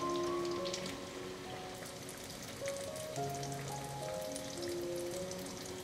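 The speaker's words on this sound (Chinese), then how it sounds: "把油烧热，裹上粉后放进来炸" Battered food deep-frying in hot oil, a steady dense crackling sizzle that holds evenly throughout with no talk.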